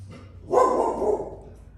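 Dogs barking outdoors near a garden where peppers are being transplanted, a short burst of a few overlapping barks, moderately close and loud, then fading.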